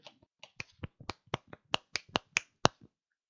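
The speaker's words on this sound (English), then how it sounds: "I'm snapping my fingers" Someone snaps their fingers on a podcast, about a dozen crisp, close snaps in a quick, fairly even rhythm, growing slightly louder and then stopping, with no talk.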